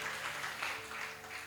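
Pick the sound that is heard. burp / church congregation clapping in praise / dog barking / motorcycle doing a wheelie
church congregation clapping in praise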